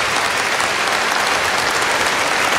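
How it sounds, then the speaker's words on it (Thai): Steady, dense applause from a large crowd at a Thai Buddhist celebration ceremony marking a chanting milestone, loud and continuous throughout with no talk over it. "ขอเสียงปรบมือดังๆให้กับความสำเร็จของเรา"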